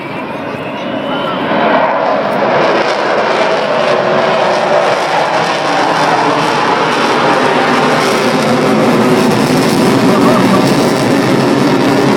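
Vulcan bomber jet in flight, a loud, continuous roaring jet noise that swells after a quieter start and holds steady, with a voice speaking underneath.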